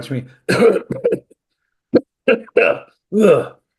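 Several short, harsh coughs in irregular bursts close to the microphone, separated by pauses, with some throat clearing.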